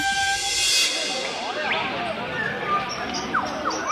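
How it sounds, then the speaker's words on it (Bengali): Train pulling into a station, a loud horn blast over rumbling rail noise with a few shorter horn calls following, close by, mixed with background voices. "ট্রেন এসে পড়েছে।"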